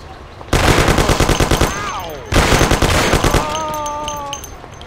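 Machine-gun fire in a shootout from the video game Mafia, two loud sustained bursts of rapid evenly spaced shots close by, separated by a short pause, with a strained voice crying out between and after the volleys.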